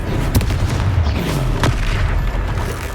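The Confringo fire spell explodes repeatedly during a duel in a Harry Potter video game, a series of deep close booms and bursts rumbling together with no talk.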